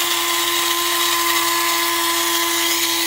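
Electric coffee grinder grinding whole coffee beans, a steady high-pitched motor whine with harsh gritty texture, loud and continuous throughout with no talk.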